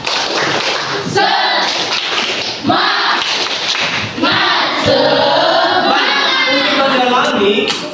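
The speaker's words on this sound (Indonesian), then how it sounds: "Tepuk semangat Bang Yobel." A class of children performs a 'tepuk semangat' spirit-clap chant at school, sharp group claps in a quick pattern mixed with loud chanting voices, close and lively throughout.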